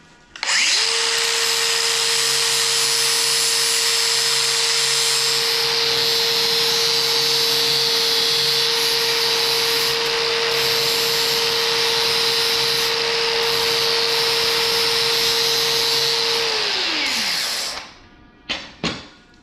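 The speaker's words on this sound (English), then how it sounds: "I just gotta sand a little bit more on that front edge" A power sander works the front edge of a 1967 Ford Mustang body after paint, running as a loud, steady whine with a constant hum for about seventeen seconds. It then spins down, followed by a few brief knocks.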